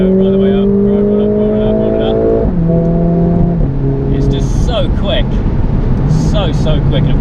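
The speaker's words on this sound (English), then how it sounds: "We've got an 8-speed dual clutch gearbox, so the gear shifts are just instant" A 2020 Mercedes A45S AMG on track pulls hard through its 8-speed dual-clutch gearbox, engine tone climbing and dropping sharply at each quick upshift, loud and close inside the cabin with a voice talking over it.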